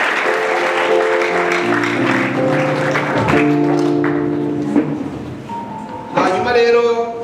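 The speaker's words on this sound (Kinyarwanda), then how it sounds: "Amashyi menshi." Applause breaks out during a church wedding ceremony: steady hand clapping mixed with sustained tonal voices or music, swelling again near the end.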